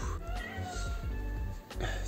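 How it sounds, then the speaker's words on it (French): A small cat meows plaintively indoors, two drawn-out cries over a steady background hum with faint, distant voices. "Il y a un petit chat qui se plaint."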